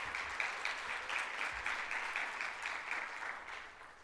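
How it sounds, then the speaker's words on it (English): Steady round of applause from an audience at an event with Colorado Governor Polis, sustained clapping that tapers off toward the end, no talk over it. "If we can give Ray a round of applause."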